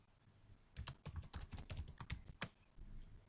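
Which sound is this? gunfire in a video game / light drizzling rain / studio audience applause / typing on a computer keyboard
typing on a computer keyboard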